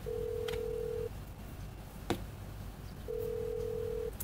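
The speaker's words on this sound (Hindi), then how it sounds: "डेजी फोन नहीं उठा रही है" A phone call rings inside GTA 5, two long steady electronic ring tones separated by a pause, clean and moderately loud against a faint background hum, with a brief click in between.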